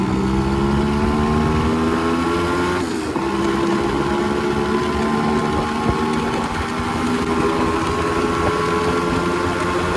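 A motorcycle engine drones steadily on a night road ride, a loud continuous mid-pitched hum with a brief pitch shift like a gear change, wind noise underneath, no speech.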